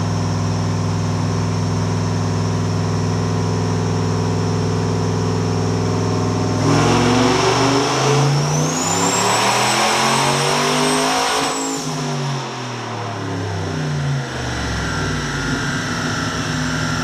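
A turbocharged 2003 Chevy truck with an E85-fuelled LQ4 V8 makes a dyno pull, idling loud and close before surging into a long rising rev with turbo whine, then falling back to idle.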